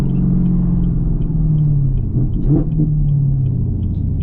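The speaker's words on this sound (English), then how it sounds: "let y'all hear the downshifts, let y'all hear the car a little bit" A Camaro ZL1 1LE sports car engine rumbles steadily at idle-like revs, with a few quick throttle blips and revving dips during clutch-in downshifts midway, close and loud.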